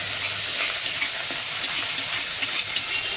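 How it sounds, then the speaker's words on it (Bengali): Green chilli with crushed ginger and garlic frying in hot oil, a dense, steady hiss of sizzling, close and fairly loud, unbroken for the whole stretch with no one talking. "এইভাবে একসাথে ভেজে নেব, ভালো করে ভাজতে হবে।"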